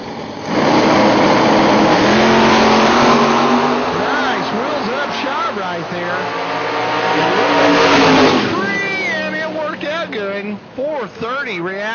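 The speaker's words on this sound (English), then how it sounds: "Leonard Crawford, the 89 Camaro in the right lane" A 1989 and a 1988 Chevrolet Camaro at a drag strip starting line rev loudly, engines rising and falling in pitch, with a track announcer talking over the roar.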